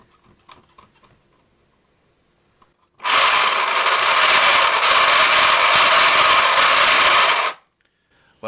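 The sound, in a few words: 3D printed air raid siren spinning, noisy gears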